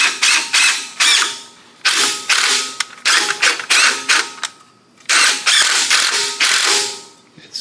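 A 15 mm socket wrench ratchets during a piston installation, with loud, close bursts of rapid clicking in repeated strokes separated by brief pauses.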